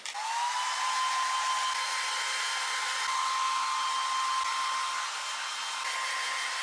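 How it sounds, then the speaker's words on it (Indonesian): A hair dryer blows on freshly washed hair, a loud, steady whirring drone with a constant whine that runs the whole time, heard close up without talk. "Nah aku mau keringin pakai hair dryer ini."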